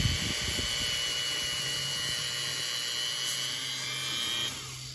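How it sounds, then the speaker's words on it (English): A Dremel rotary tool with a soft brush attachment cleaning a blade during a refurbishing job. It gives a steady high-pitched whine that holds for about four and a half seconds, close and alone, then drops off. "The quickest way I can screw up any project is with a Dremel"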